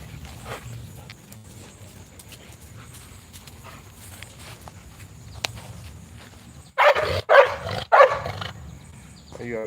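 A dog barks several times in quick, loud bursts near the end, after a stretch of quiet background rustling and faint movement.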